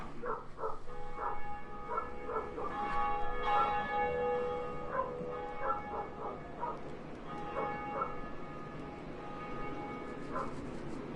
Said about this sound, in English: but ringing our first bell?